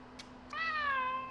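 A pet cat named Tuk Tuk gives a single drawn-out meow indoors at home, close to the microphone and fairly quiet, with no talking over it.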